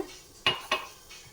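A metal spoon clinks twice against a pot while adding tea powder to boiling water for lemon tea, two sharp close taps over a quiet background.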